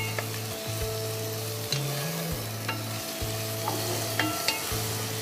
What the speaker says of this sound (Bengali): পেঁয়াজটা একটু নরম হওয়া পর্যন্ত আমরা একটু নাড়াচাড়া করব। একটু হালকা ভেজে নিতে হবে।